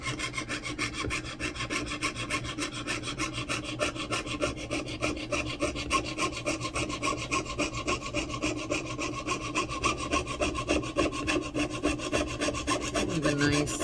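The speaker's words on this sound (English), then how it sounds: "I'm just gonna cut away some of this excess metal" Excess metal being cut away from a handmade ring, a steady rhythmic rasping of rapid back-and-forth saw or file strokes, close and continuous with no voices.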